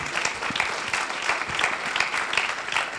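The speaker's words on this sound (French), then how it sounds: "On peut l'applaudir, merci beaucoup" A live studio audience claps for a TF1 guest at a campus talk event, a sustained, moderately loud wash of many hands with no speech on top.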